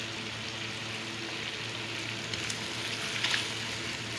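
Chicken fries in a pan with korma masala and black pepper, a steady close sizzle that crackles softly and evenly throughout with no talking.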